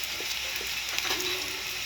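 Dried red chili hitting hot oil in a pan, which already holds fried potatoes, giving a steady bright sizzle and crackle that runs through the whole short stretch.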